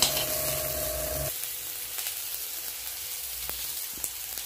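Garlic and onion sauté in a pan for a radish kootu, a soft steady sizzle after a brief low hum cuts out, with a few scraping knocks of a spoon, close and fairly quiet with no talk.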